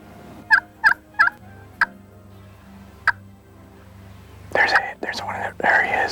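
A wild turkey gobbles outdoors during a hunt, five short rattling calls at middle distance, four in quick succession and a fifth after a pause, followed by soft whispering nearby.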